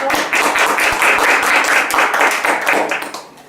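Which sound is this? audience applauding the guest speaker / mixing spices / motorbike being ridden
audience applauding the guest speaker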